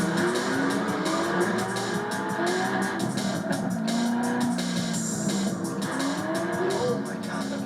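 Corvette Z06 sports car engine roaring steadily on a course lined with steel containers, a loud sustained drone with shifting pitch as it accelerates, close and continuous throughout.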